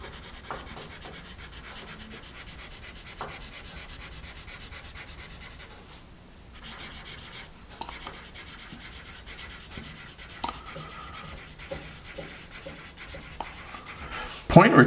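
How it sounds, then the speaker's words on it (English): A Stabilo Othello graphite pencil scratching across paper as it writes, a soft continuous close rubbing with small bursts of stroke noise and a brief pause midway. "It's a fairly smooth pencil. It's just a little bit of scratch to it."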